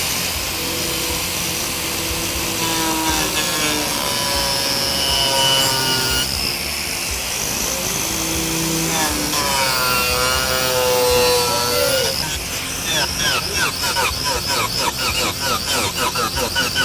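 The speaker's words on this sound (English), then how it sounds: "And I'm going to take my grinder here." A power grinder carving a wooden bear figure, a loud continuous whirring, rasping grind that rises and falls in pitch as the tool bites into the wood, with music playing underneath throughout.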